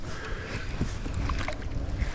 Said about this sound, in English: No, different boat. It's a bass boat.